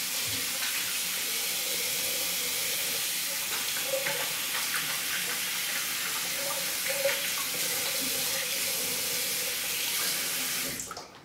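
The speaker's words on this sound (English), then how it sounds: "Let me rinse my hands and we'll get to the shave." Steady running water from a tap splashes over hands at a bathroom sink before a shave, a continuous close hiss lasting the whole stretch with no talk, then cutting off abruptly at the end.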